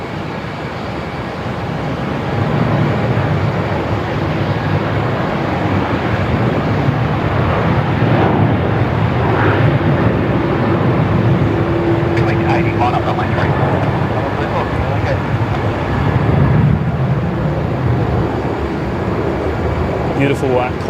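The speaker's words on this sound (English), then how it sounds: "Beautiful Qantas Link 717" QantasLink Boeing 717 jet airliner at Melbourne Airport, a steady, fairly loud engine rumble and whine that builds after a couple of seconds and holds, with a person talking over it.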